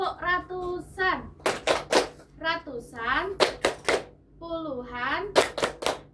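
In a classroom counting clap game on hundreds, tens and units, sharp bursts of clapping come in short groups between a teacher's chanted speech, loud and close, alternating with the spoken lines.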